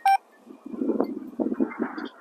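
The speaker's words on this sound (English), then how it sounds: "there's the phone call" Incoming phone call over a Sena motorcycle helmet headset: a sharp electronic beep, then a muffled ringing tone pulsing in a few short bursts, close and moderately loud, with no talk.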